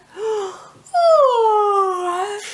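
Two long, drawn-out voiced yawns, the first short and rising, the second louder and stretched over more than a second with a wavering, sighing fall; close and alone, likely voiced by a narrator imitating waking parents.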